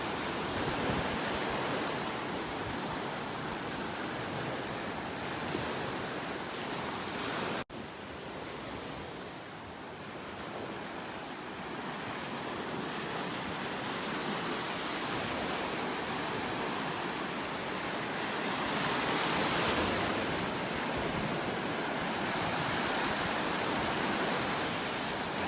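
Ocean waves on the beach at North Naples, Florida, a continuous broad roar of surf with slow swells in loudness, heard alone without talk.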